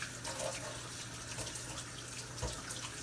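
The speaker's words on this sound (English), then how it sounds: "Now, wash my hands, get this flour off my hands." Water running from a kitchen tap while flour is washed off hands, a faint steady splashing stream with small shifts as the hands move, no talk.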